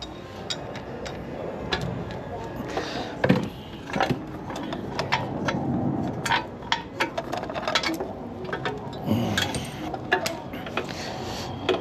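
Someone works on the primary chain and sprocket of a 1984 Harley Davidson FLT Tour Glide, producing close metallic clanks, rattles and chain clinks in irregular bursts.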